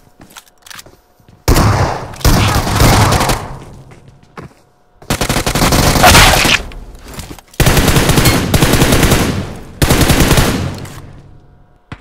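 Bursts of automatic gunfire in the mobile battle royale game PUBG Mobile, with several loud sustained volleys separated by brief pauses and no talk over them.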